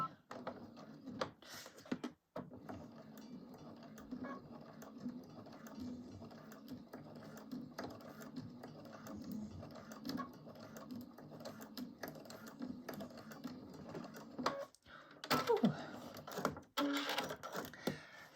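A sewing machine bastes fabric for a crossbody bag, a quiet, close, mechanical whirring run with brief stops and louder bursts near the end.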